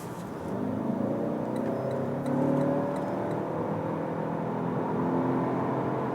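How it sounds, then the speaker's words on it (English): A 2022 Lexus ES 300h F Sport hybrid accelerates on the German Autobahn from about 40 km/h. Heard from inside the cabin, a steady low drone of engine and road noise swells slightly partway through, with no voices. "we're getting into the German Autobahn here and accelerate it from 40 kilometers an hour to,"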